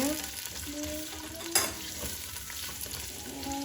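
Carrots sautéing in oil in a pan for a leek dish, a steady close sizzle with stirring scrapes and one sharper clink of the utensil, no talking.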